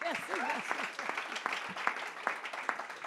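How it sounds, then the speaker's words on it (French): An audience at a round-table event applauds in a thin, sparse round of claps, while someone talks over the clapping. "ça c'est des applaudissements d'une tristesse infinie"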